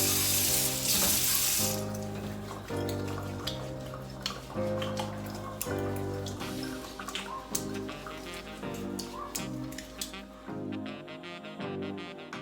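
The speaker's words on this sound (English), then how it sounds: "Most importantly, we gotta wash our hands before we begin." Tap water runs steadily into a kitchen sink while hands are washed, a continuous close splashing wash with changing texture as the hands move through the stream, then tapering off.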